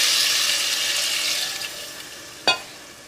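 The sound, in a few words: pouring measured water into chicken biryani pot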